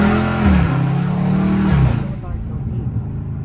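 A Scat Pack muscle car engine rumbles loudly at close range on a city street at night, revving and shifting before the exhaust note fades away, leaving quiet street noise.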